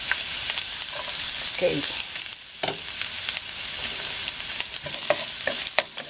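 Garlic sautés in a tablespoon of hot cooking oil in a pan, with a constant crackling sizzle and repeated clatter of stirring up close while a voice speaks a single word.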